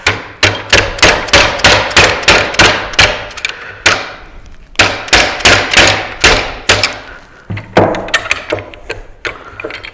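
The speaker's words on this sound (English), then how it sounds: "I'm going to see if I can just tap this with the mallet and see if the caster comes out." A mallet taps a caster out of a Shopsmith woodworking machine: sharp, loud knocks in quick regular runs of several blows, broken by short pauses, close up with no talking.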